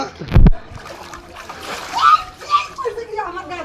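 A single sharp splash breaks knee-deep rainwater flooding a room in Gazipur, followed by people talking over quiet lapping water.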